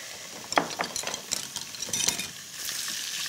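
Sliced cucumber stir-fried in hot cooking oil in a pan gives a soft continuous sizzle, broken by scraping and light clinking strokes as it is tossed; no voices.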